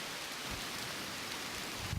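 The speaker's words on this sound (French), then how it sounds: "il pleut." Rain falling on a bushcamp bivouac roofed with broom branches, a steady soft patter with a few closer drops, fairly faint and with no voices.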